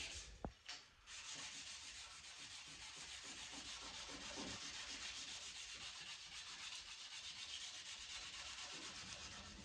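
Abrasive paper rubs back and forth on the steel of a Damascus kitchen knife, a steady, faint, rasping scrub in a quiet room after a brief knock at the start.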